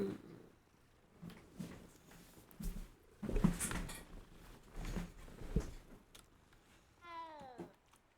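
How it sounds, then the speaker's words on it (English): Small cat purring softly and steadily in a quiet room, low rumbling hum with a few brief louder rustles and a short chirpy vocal sound near the end. "Look at that kitty"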